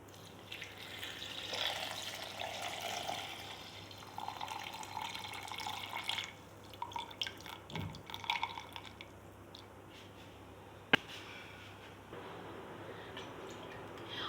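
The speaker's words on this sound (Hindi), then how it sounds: "और साथ ही ये चिल वाटर डाल दिया जिसमें दूध था" Chilled water with milk poured over banana, sugar and almonds for a milkshake, a running liquid splash in uneven bursts, then drips, a single sharp clink, and quieter trickling, close and moderately soft.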